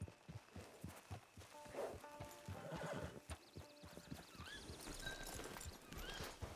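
A horse whinnies amid steady clip-clopping hooves in Red Dead Online, with busy game ambience and rising tonal chirps layered over the scene.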